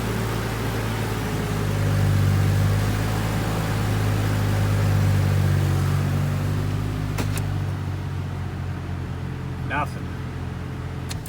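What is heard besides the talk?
Chevrolet Trailblazer engine running after transmission install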